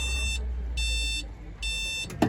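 Fire alarm control panel sounding a fault buzzer in three long, evenly spaced beeps, loud and close, with a steady hum underneath and a short click near the end.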